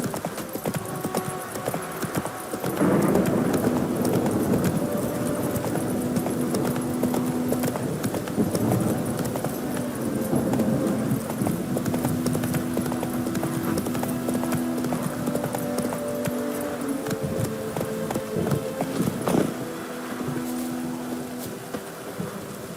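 Horse hooves clip-clop steadily at a gallop, the steed Roach in the video game The Witcher 3, a loud rhythmic drumming with occasional snorts over ambient game sound and no talk.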